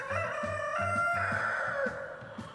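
A rooster on a film set crows loudly and close by, a long drawn-out cock-a-doodle-doo with a steady harmonic call lasting over two seconds, heard alone without talk.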